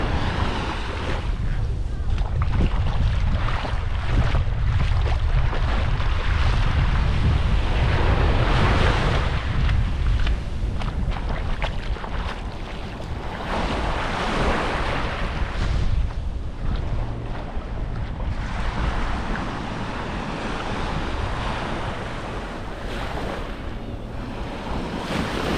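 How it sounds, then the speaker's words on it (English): Loud wind and rushing surf fill the air, with a speedboat's engine roar and churning water blending into the constant noise as it passes on the sea off Long Beach, Koh Lanta, Thailand. "The boat, speedboat."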